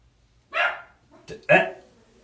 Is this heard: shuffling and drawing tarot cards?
no